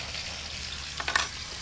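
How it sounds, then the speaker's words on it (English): Steak sizzles in a frying pan, a steady close hiss of hot fat with a few brief crackles and pops, no talk over it. "So let me get the steak in. We're going to sizzle"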